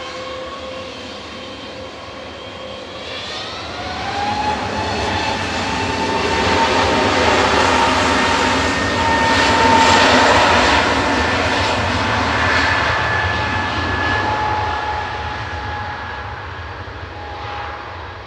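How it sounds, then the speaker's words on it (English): An EasyJet jet departs from a Manchester Airport runway, its engine roar building with a rising turbine whine, peaking loud mid-way and then slowly easing off, with no talk. "EasyJet next up for departure, they're 123 left, heading to Geneva"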